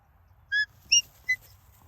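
A shepherd gives a short, sharp whistle command to a border collie working goats: three quick high-pitched blasts, the first slightly longer, clear and close over faint background.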